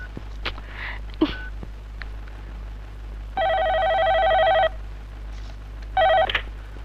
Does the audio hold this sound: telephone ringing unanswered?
yes